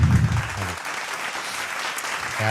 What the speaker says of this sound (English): I think you deserve a round of applause for this